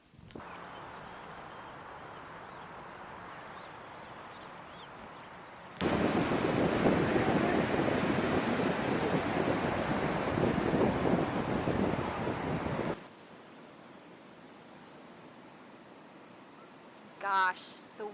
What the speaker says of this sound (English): Gosh, the waves here are just absolutely magical.